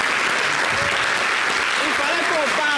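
An audience at a live variety show applauds steadily and loudly, with continuous dense clapping and voices talking over it.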